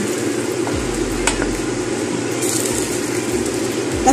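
A sitaw and talong dish with soy sauce and salt is stirred in a pan, a continuous close sizzle with soft scraping of the spoon, fairly loud and without talk.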